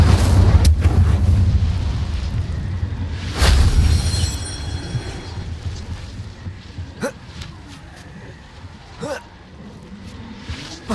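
A fire spell cast in the Hogwarts Legacy video game: a loud roaring whoosh of flame with a sharp burst, then quieter game effects and scattered impacts fading behind a rumbling background.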